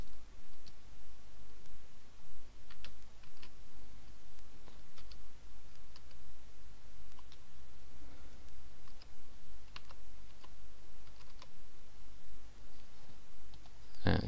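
Typing on a computer keyboard while entering a password during a WordPress install: faint, steady key clicks under a constant hiss of background noise, with no talk.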